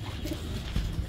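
Pigeons cooing close by in a loft, a few soft low coos rising over steady background murmur.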